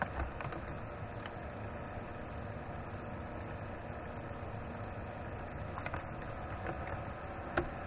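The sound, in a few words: typing Urdu text on a computer keyboard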